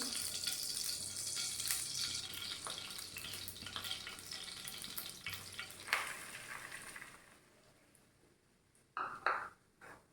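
Wheat flour frying in ghee for a milk cake makes a soft, close sizzle with light stirring. It fades to near quiet before a brief burst of scraping and clatter near the end.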